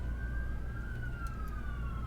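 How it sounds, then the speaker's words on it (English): A siren wails past outside, its steady tone sliding slowly downward as it moves away, heard at a moderate distance over a low rumble of background noise. "Sending love to that siren."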